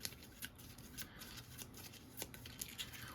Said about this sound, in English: Then we take his cards, we shuffle them up